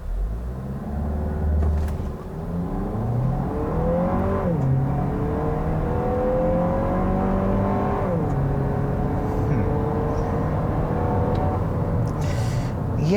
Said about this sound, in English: I just want to try brake torquing it.